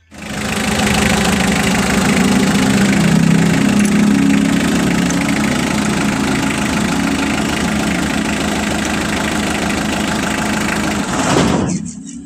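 A Mitsubishi L300 engine runs loud and close at a steady knocking idle, then abruptly dies near the end after a battery cable is pulled while running.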